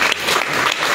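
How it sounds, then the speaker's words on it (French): Congregation applauding during a church prophecy service, a dense steady wash of clapping filling the whole moment. "Acclame Jésus-Christ"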